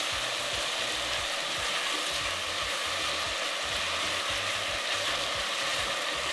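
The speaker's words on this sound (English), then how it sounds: "So you want to saute it for about a minute. Let the onions get translucent" Onions sautéing in a pan as the base for a jollof risotto, a dense steady sizzle with a low rattling, clattering texture underneath, close and continuous throughout, without talk.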